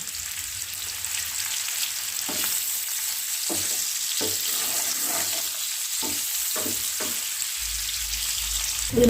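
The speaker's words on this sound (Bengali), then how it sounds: "বাড়িয়ে 2-3 মিনিটের জন্য এগুলোকে আমি হাই ফ্লেমে ভেজে নিচ্ছি।" Potatoes deep-frying in hot oil on a high flame for Kashmiri aloo dum, a continuous dense sizzle and crackle with occasional soft clinks of a spatula, close and steady.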